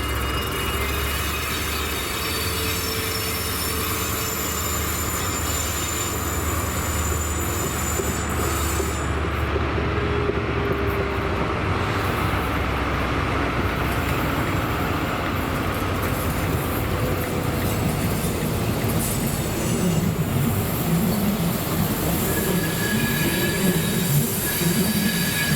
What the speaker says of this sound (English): the 1300 ScotRail service to Glasgow Queen Street from Inverurie with 43131 and 43151.